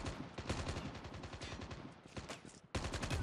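Rapid automatic gunfire in Call of Duty Mobile rattles in fast, steady bursts, loud and close, with a brief gap before another volley opens up.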